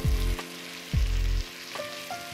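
Mushrooms fry with salt in a pan for a vegan asparagus and oat risotto, giving a soft, steady sizzle beneath low thumps and humming tones, without any speech.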